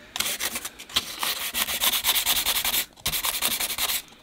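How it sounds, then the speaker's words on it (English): Steady, rhythmic rasping strokes of sandpaper scrubbing body filler on a 3D-printed bonsai pot, close and continuous, with one brief pause before the sanding resumes. "I'll start sanding the body filler now."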